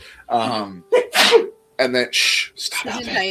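A loud, close sneeze bursts out between stretches of speech as people talk casually around a table.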